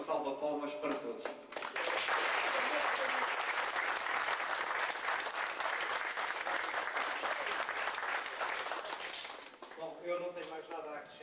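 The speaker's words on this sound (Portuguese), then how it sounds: "uma salva de palmas para todos." A round of applause from guests at an annual lunch gathering in Santa Comba Dão, a dense sustained clapping from many hands lasting several seconds, with someone speaking briefly just before and after it.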